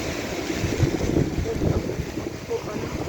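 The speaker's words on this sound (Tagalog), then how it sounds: "Ang laki ng mga alon doon oh" Big waves and gusting wind from Typhoon Aghon in the Philippines roar as a dense, steady broadband rush, with surges of surf swelling and fading close to the microphone.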